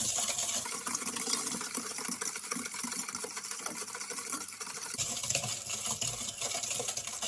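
Cinnamon roll dough with yeast being mixed: a steady, loud, continuous whirring and scraping runs alone through the whole stretch, with a slight shift in texture about two-thirds of the way in.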